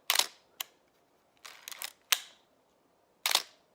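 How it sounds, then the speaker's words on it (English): Several sharp mechanical shutter clicks from an Olympus OM-1n film SLR camera, each a crisp snap, some single and some in quick clusters, heard close up in a quiet room. "Nice shutter sound."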